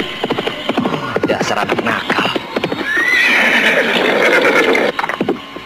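A horse neighs with a long, rising whinny amid clip-clopping hooves in an Indonesian radio drama, the calls standing out clearly at close range, while voices speak over parts of the scene.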